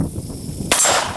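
A single sharp pistol shot cracks out loudly and close, after a moment of quiet outdoor background, and leaves a brief ringing tail.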